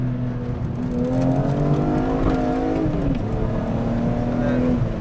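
A Dinan-tuned BMW E46 M3 in Interlagos Blue pulls hard, its engine note rising and falling through revs in a loud, close, continuous howl from inside the car, with a voice talking over it.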